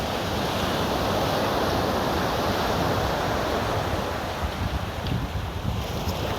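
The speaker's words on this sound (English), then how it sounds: "is there any wind at all? Is there? Well, yes, there is a tiny bit of wind" Outdoors by open water, a light breeze buffets the microphone in a continuous rushing roar, with surf-like noise and no voices.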